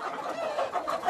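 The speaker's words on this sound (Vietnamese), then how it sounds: "Giống gà này là giống gà con dâu." Chickens cluck continuously at a local breeding-chicken farm near Ha Long. The overlapping clucks are moderately close, with no talking.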